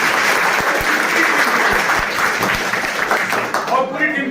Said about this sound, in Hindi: और पूरी टीम के लिए हम ताली बजाना चाहते हैं